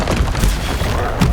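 A Stupefy spell blast in Hogwarts Legacy, a short deep boom with a muffled rumbling tail and a second thump near the end.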